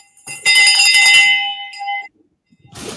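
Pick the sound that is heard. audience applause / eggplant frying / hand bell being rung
hand bell being rung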